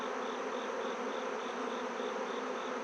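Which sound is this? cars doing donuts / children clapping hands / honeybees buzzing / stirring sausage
honeybees buzzing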